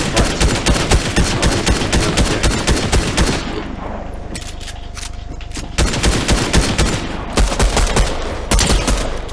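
A pistol fires in a video game, a rapid string of sharp, loud shots that stops for a short lull, then starts again in quick bursts, with no talking.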